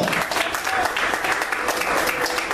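A church congregation bursts into sustained applause through a worship service, steady and dense clapping filling the room, with a voice speaking over it.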